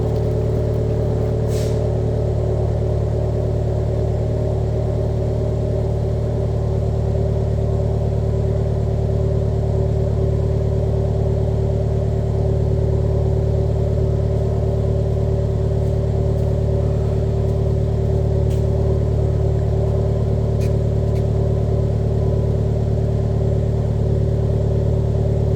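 A Vauxhall Corsa VXR Nurburgring Edition idles on a cold start through its cat-back exhaust, a loud, deep, steady rumble held close and constant throughout with no talk.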